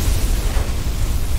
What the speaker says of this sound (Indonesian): meledak ya.